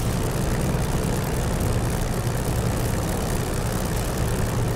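A Spitfire's propeller engine rumbles steadily while taxiing in the DCS flight simulator, a constant, even drone with no breaks and no voices.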